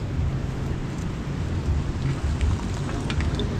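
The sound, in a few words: heavy rain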